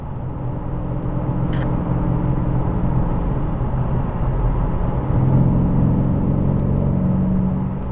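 A 2021 Dodge Challenger RT engine gives a steady, muffled cabin-side whir and rumble that swells partway through as the car accelerates, with no voices.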